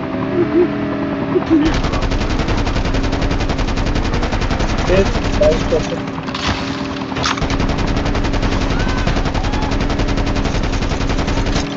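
Sustained automatic gunfire from enemies in Call of Duty Mobile rattles in long, rapid bursts under a steady game soundscape, with players' voices talking over the shooting.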